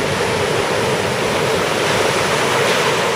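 Surf from the Indian Ocean washes over the site of the Alkimos shipwreck, a loud, continuous rushing wash of water at close range with no distinct wave breaks, and no voices are heard.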